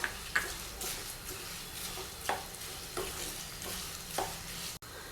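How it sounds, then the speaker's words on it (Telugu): Spices and red chilli fry gently in oil over low heat for tomato pickle, making a soft, even sizzle. Periodic stirring scrapes and light clinks of a spoon against the pan come through, with no voices. "ఇవన్నీ కూడా మాడిపోకుండా లైట్గా సిమ్లో పెట్టుకొని ఫ్రై చేసుకోవాలండి"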